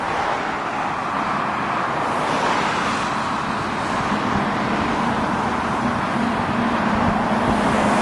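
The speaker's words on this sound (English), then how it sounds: "Lorries, cars, motorbikes! You can hardly hear yourself!" Steady, loud roadway noise fills the whole stretch, a constant roar of passing lorries, cars and motorbikes with heavy engines rumbling close by.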